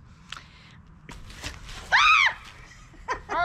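A person screams loudly during a staged trekking-pole self-defense attack, one strained cry near the middle and a shorter one at the end, with scuffling and movement noises before it.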